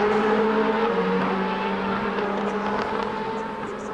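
Mercedes HWA DTM race cars from the 2007 season roar at the end of a race, a loud continuous engine drone with shifting pitch and no voices.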